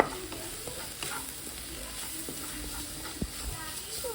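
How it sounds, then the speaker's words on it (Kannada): An egg mixture with coriander powder, pepper and garam masala stirred in a hot pan, with continuous sizzling and frying and irregular scraping strokes of the spoon close by. "ಸ್ವಲ್ಪ ಗರಂ ಮಸಾಲೆ ಹಾಕಿ ಮಿಕ್ಸ್ ಮಾಡಿ, ಚೆನ್ನಾಗಿ ಮಿಕ್ಸ್ ಮಾಡಿ"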